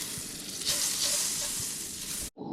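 Butter sizzling and frying in a hot pan before trout go in, a loud steady hiss that holds for about two seconds, then cuts off abruptly and returns more quietly.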